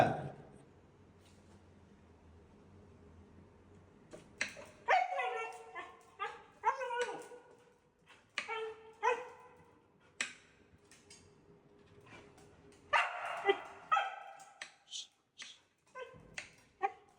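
A husky gives whimpers, yips and short barks, faint at first and then in louder clustered bursts, while a person talks to it from time to time.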